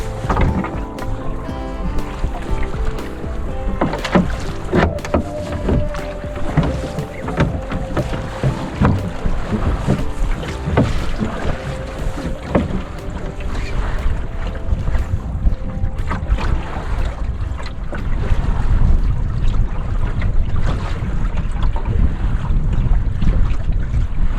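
Rowing a canoe yawl with an oar in cold, gusty wind and waves, with steady rushing wind buffeting and splashing water, plus intermittent knocks of oar and hull throughout.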